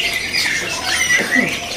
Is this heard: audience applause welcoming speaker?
no